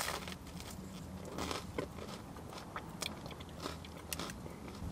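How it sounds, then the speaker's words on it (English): Close, crackly bites and chewing on a crunchy Greggs festive stuffing baguette filled with sage and onion, plant-based goujons and cranberry and port sauce, with scattered sharp crunches over several seconds and no talking. "you get a great crunch from the baguette when you bite into it"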